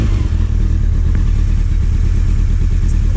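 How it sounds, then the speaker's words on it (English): A 1996 Honda CBR600 F3 motorcycle idles after a cold start, its engine running loud and steady with a low rumbling chug and faint mechanical clatter, close up and alone without talk. "Like here's a cold start, if it even starts."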